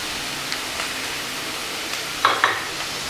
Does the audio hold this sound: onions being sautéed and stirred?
yes